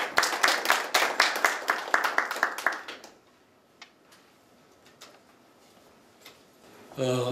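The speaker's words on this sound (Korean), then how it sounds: "박수로 모시겠습니다" A small seminar audience claps for about three seconds, the applause thinning out into quiet room noise with a few scattered taps before a voice begins.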